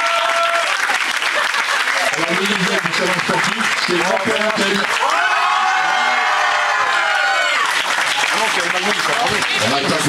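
A crowd claps and cheers for the winners at a school sports awards ceremony in Terrasson. Loud sustained applause mixes with whoops and children's shouts, while a voice speaks over it through a loudspeaker.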